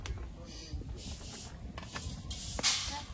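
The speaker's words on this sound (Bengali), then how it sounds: "কড়াইতে জল দিয়ে দেবো।" Water poured into a hot wok of fried mung dal gives a loud, continuous hiss and sputter, with bursts of spitting steam and a sharper flare near the end.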